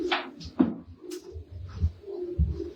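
Racing pigeons cooing inside a loft: several soft, low coos in an uneven rhythm, close by, with light shuffling between them.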